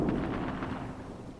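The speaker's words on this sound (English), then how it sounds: "They're still being shot at in there." Gunfire in a video game firefight, a rapid series of sharp reports that crowd together at first and then trail off, moderately loud with no voices.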